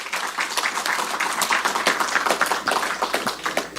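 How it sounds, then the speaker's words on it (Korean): Applause of thanks at a party caucus of National Assembly members electing a floor leader, a steady, full round of clapping from many hands in an indoor hall, sustained at even loudness throughout. "감사의 박수 부탁드리겠습니다"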